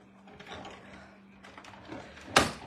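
A crank-operated die cutting machine turns during card making, giving faint mechanical clicking and grinding that builds to a sharp, louder clunk just before the end, with no talking.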